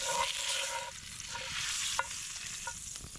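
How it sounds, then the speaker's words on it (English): Meat searing in a hot Dutch oven outdoors at Custer State Park, giving a steady broadband sizzle with a few faint clinks and scrapes. The sizzle stays fairly even for the whole stretch, with no talking. "So we're going to go sear this in our pan."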